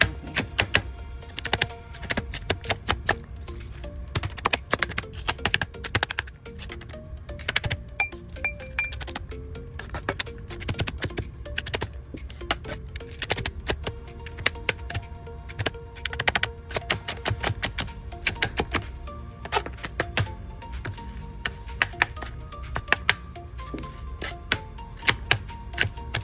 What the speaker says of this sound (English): So we're done cutting the onions.